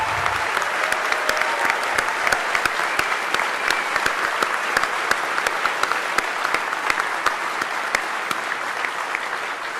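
A crowd applauds at the DEF CON 20 hacking conference closing ceremony: continuous, dense clapping with sharp individual claps standing out, sustained throughout without speech.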